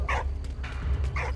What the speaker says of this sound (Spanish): Cállate, perro asqueroso.